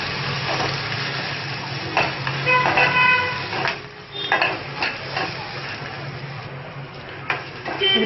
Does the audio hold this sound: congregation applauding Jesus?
no